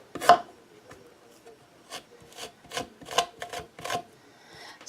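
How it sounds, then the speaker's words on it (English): A knife peeling lemons and cutting away the white pith for lemon curd, a series of short, separate scraping and slicing strokes spaced irregularly, close and fairly quiet. "I'm going to basically peel the lemons and make sure to remove this pith."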